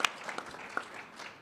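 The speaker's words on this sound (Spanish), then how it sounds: "un aplauso a Santiago Álvarez Campa" Brief, fairly faint applause from an audience at a book presentation, a soft patter of clapping with a couple of sharper claps standing out, lasting only a moment.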